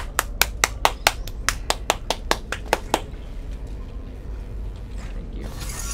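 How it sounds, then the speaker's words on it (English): Sharp hand claps during a Portal 2 co-op session, about a dozen in a fast, steady run that stops abruptly, leaving a quiet game background hum. "I'll just keep clapping."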